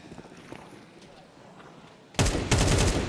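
Gunfire in the Counter-Strike video game, a sudden loud burst of rapid shots after a quiet stretch of low background noise, with a second volley close behind.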